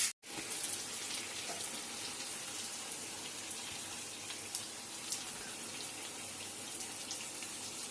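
Outdoor tap running, a steady hiss of water pouring, fairly quiet and continuous after a brief click at the start.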